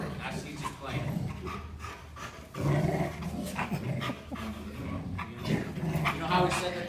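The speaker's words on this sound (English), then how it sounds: "see his growling?" A dog growls in play, with a rough, rumbling growl broken by panting and soft whimpers, heard up close while a person talks over it.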